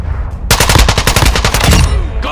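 Rapid automatic gunfire from Call of Duty Modern Warfare 2 multiplayer, a loud, close burst of evenly spaced shots lasting well over a second after a short quiet lead-in.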